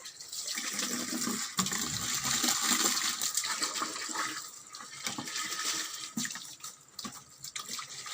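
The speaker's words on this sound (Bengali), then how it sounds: "দেখো তোমাদের দাদাভাই জল ভরছে মেশিন ছেড়েছে বোরিং চালু করছে" Water from a borewell pump gushes steadily into a bucket, a quiet continuous pouring and splashing close by with no voices.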